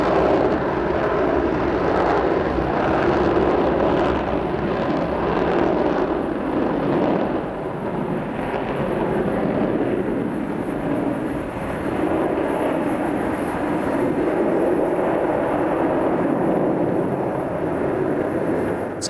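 A Concorde supersonic airliner roars in flight, a loud, dense, unbroken rumble that holds steady for the whole stretch.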